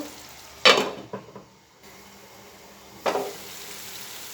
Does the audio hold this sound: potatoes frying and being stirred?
yes